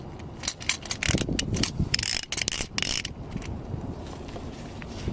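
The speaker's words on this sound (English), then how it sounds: "So we're gonna use oil filter wrench, some extensions on my 1/2 inch." Oil filter wrench on a 1/2-inch ratchet with extensions loosening the oil filter on a 5.7L Hemi V8, producing a burst of close metallic ratcheting clicks and scraping that fade toward the end.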